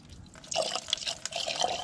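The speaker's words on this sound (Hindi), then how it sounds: "ये पानी यहाँ से निकलने लगा" Water splashes and trickles steadily out of a Tata Sumo radiator drain pipe during a citric acid flush, a close, continuous gurgling pour with small dripping accents.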